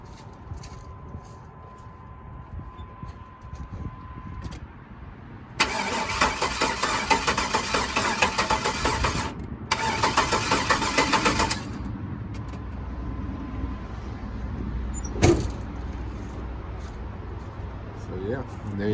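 LS engine with no fuel cranking over on the starter in two long bursts, a loud whirring, chattering churn that never catches, with quieter shop noise and a voice talking in between.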